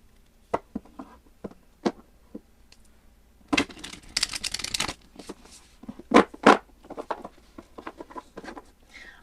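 Playing cards being shuffled during a relaxing ASMR session, heard as scattered crisp riffles and flicks, with a few louder bursts of rapid card fluttering near the middle and later on, close and clear against a quiet background.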